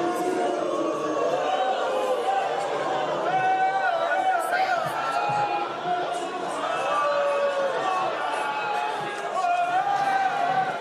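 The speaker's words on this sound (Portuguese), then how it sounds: "o presidente Lula foi recebido com aplausos e vaias." At a municipal congress, a large crowd fills the hall with a dense, continuous roar of applause and jeering voices that holds steadily throughout without breaks.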